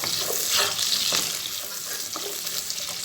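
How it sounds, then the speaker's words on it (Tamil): Onions sautéing with a sprig of curry leaves in a pan for a fish curry, a steady loud sizzle with occasional scraping stirs cutting through. "வெங்காயம் நல்லா வதங்கி வரட்டும்"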